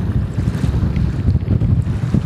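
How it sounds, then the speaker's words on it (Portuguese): Strong wind blows at the Atalho dam reservoir, a steady, loud, broadband rush with gusty rumbling buffeting the microphone throughout, and no voices. "E está ventando bastante, como vocês estão vendo aí."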